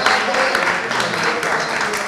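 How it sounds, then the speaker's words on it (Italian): Audience applause at a forum on the Via Francigena, a steady dense wash of clapping filling the whole moment at even loudness with no voices standing out. "Un applauso anche a Sandro, che è bravissimo."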